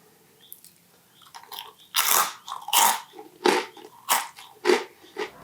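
Crunchy baked Parmesan rind cheese puffs are bitten and chewed close up: a quiet start, then about seven loud, crisp crunches in an uneven rhythm, with no talking.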